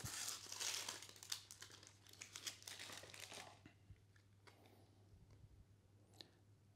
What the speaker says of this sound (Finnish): ja pakka on laitettu tommoseen kivaan paperikääreeseen.